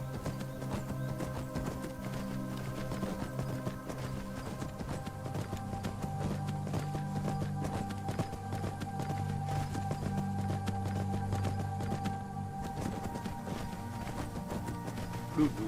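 Horse hooves clip-clopping steadily in the video game Skyrim, a soft continuous rhythm under a humming game soundtrack.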